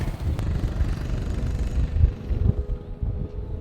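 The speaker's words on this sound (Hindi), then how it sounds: "रुक जा, बाइक आ रही है।" A motorcycle on a mountain road in Ladakh, its engine rumbling low and steady close by, partly buffeted by wind noise against the microphone, with no speech.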